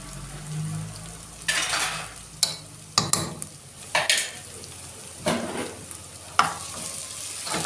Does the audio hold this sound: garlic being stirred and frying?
yes